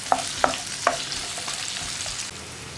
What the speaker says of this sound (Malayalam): പിന്നെ ഇനി ഇതൊന്ന് നന്നായിട്ട് വഴറ്റിയെടുക്കുക. സവോള ഒന്ന് ട്രാൻസ്പെറൻ്റ് ആയി വരുന്നത് വരെ നമുക്ക് ഇളക്കി കൊടുത്തുകൊണ്ടിരിക്കാം.